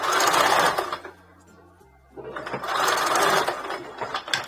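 A sewing machine stitching a fabric ruffle for a blue and white top, running in a loud, steady mechanical whir, stopping briefly for a quiet pause, then starting up again close by.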